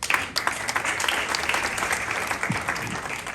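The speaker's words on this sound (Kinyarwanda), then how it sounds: "kandi mumukomera amashyi menshi." Applause from an audience at a Rwandan gathering honouring a man named Bosco, a dense, steady patter of many hands clapping for a few seconds, with a voice briefly audible beneath it.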